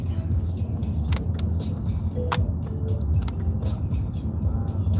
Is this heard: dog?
no